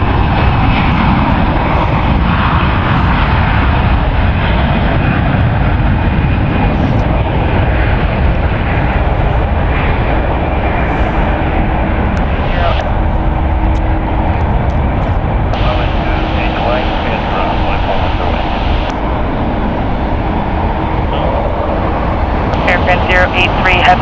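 A jet airliner turning onto final approach at San Francisco International Airport gives a steady, loud engine roar throughout, heard beneath ongoing talk and radio voices.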